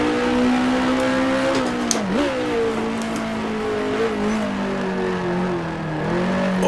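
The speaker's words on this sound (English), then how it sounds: "Down to third gear. Just ease it on through." A race car engine drones steadily after a downshift to third gear on track, a loud, sustained tone that dips and recovers as the car eases through a corner.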